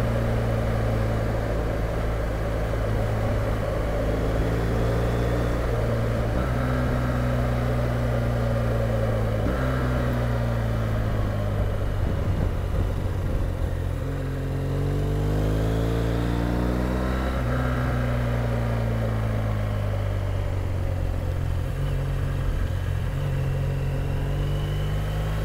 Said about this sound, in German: Ich denke, man hört jetzt den Reifen.